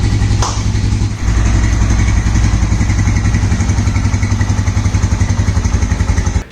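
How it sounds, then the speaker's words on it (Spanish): A 125 cc motorcycle engine idles close by with a steady, rapid chugging putter, following a short sharp click at the start, then cuts off abruptly. "ahí queda encendida la motocicleta"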